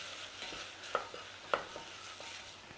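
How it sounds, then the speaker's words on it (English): Seasoned smokey beans are stirred in a pan with salt and pepper, a spoon knocking the pan twice sharply amid a faint soft sizzle and scraping, quiet and close. "Give it a little stir."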